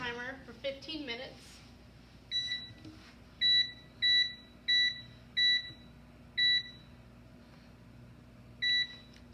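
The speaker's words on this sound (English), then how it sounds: "And then we're going to set a timer for 15 minutes." A kitchen timer beeps in a home kitchen during cupcake baking, sounding six or seven short bright double-tone beeps at a steady rhythm after a brief stretch of speech at the start.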